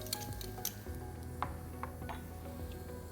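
Garlic sautéing in a non-stick pan over medium heat, a soft steady sizzle with occasional clinks and stirring scrapes, quiet and close.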